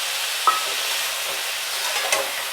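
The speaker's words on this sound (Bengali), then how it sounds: "এবার সব কিছু নাড়াচাড়া করে একটু ঢাকা দিয়ে দেবো।" A spoon scrapes and stirs banana stem curry in a hot pan over a soft background sizzle, with two distinct clinks against the metal. No voices.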